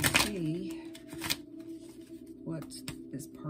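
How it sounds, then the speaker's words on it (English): Tarot cards are shuffled in brief riffles and soft flicks, heard faintly under a person's ongoing talk during a card reading. "let's get one more shuffle out"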